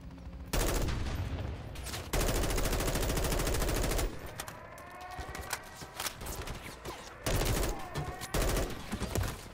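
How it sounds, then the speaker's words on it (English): Shotgun blasts in the video game Call of Duty: Modern Warfare 3 come as loud, dense bursts of gunfire in several sustained volleys with short gaps, close and dominant, with echoing tails between. "Oh, wait, it's a shotgun!"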